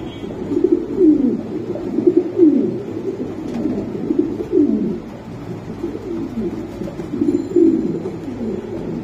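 A male blue-bar Mundian pigeon coos repeatedly, close and fairly loud: soft throaty rolling calls recurring every second or two in a steady rhythm, with no talk over them.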